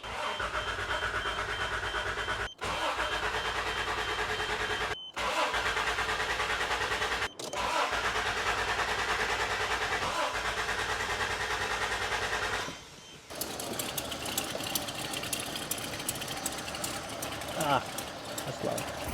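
Toyota Land Cruiser engine cranks steadily on the starter during a compression test, a loud, close, fast rhythmic churning that breaks off briefly several times before running on with a rougher tone.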